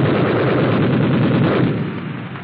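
Rapid machine gun fire from 50-caliber guns mounted on a US Army tank, a loud, continuous dense burst that holds steady and then tails off slightly near the end.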